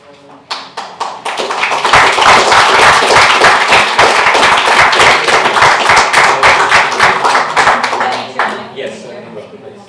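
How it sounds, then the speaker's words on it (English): Applause breaks out in a council committee meeting for a former mayor: a few scattered claps swell into dense, loud clapping from a roomful of people, then thin out to isolated claps at the end. "I allowed some applause there for former Mayor Lonsdale"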